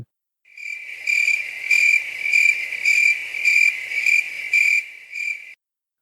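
A voice imitates crickets chirping, a steady shrill trill pulsing in regular bursts for several seconds, then stopping abruptly.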